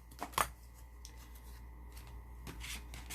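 Scissors cutting out a paper part for a handmade stocking gift card holder, a few close snips and paper rustles, with a sharp cut near the start and more handling toward the end, no talking.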